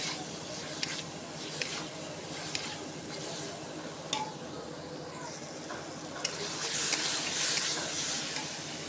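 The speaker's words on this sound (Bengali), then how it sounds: "জল শুকিয়ে এসেছে, পেঁপেটা ভালোভাবে আমি কষিয়ে নেব" Papaya being fried down and stirred in a pan after its boiling water has dried off, giving a steady soft sizzle with scattered scrapes of a spoon against the metal, close by and moderately quiet, with no voices.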